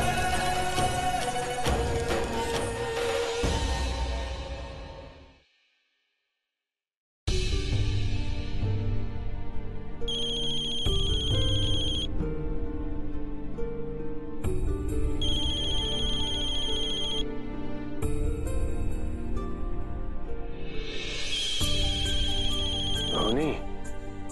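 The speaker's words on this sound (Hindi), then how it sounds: "अरे देखो ना किसका फोन है, उठा लो।" A mobile phone ringtone plays loudly as a repeating melodic tune, cuts out briefly near the start, then resumes and keeps ringing with other sound layered beneath.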